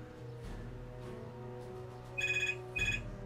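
A telephone rings in the video game Fallout: New Vegas, two short electronic trilling bursts over quiet background ambience, faint and without talk.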